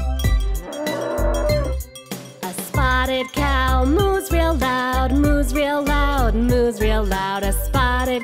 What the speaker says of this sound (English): A spotted cow moos real loud